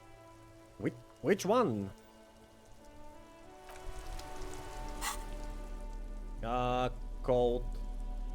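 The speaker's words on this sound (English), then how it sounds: "This rain will not let up anytime soon." Steady rain in Disco Elysium, a continuous soft hiss of falling drops running beneath several bursts of talking and a few sharp interface blips.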